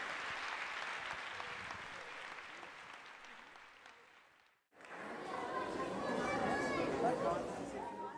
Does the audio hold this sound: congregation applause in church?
yes